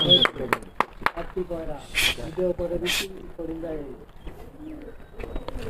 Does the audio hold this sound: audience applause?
no